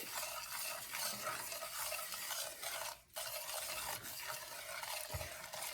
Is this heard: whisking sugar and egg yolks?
yes